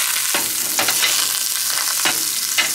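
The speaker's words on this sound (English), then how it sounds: "It should be pretty hot right now because I had it heating up. And I have a little butter." Butter sizzles and crackles steadily in a preheated pan while spicy seasoned salmon is pan-seared, a close, continuous frying hiss with a few brief louder spits and no talking.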